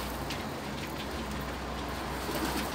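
Pigeons coo on a balcony under a steady wash of broad background noise, which may be rain, with the soft calls barely rising above it.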